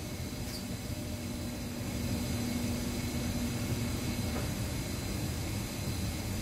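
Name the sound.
Whirlpool Cabrio washer transmission engaging for spin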